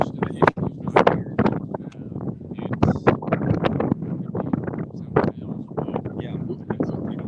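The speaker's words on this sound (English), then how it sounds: "That wind is really cutting in" Wind buffets a microphone outdoors in a loud, uneven rumble of gusty thumps and rushing bursts that nearly drown out faint voices beneath.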